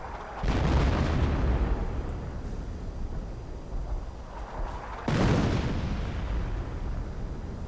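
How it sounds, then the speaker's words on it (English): Howitzer artillery firing on a German base in a multiplayer real-time strategy game, with two heavy booming blasts about five seconds apart and continuous battle rumble between them. "Howitzer firing away. Right into the German base."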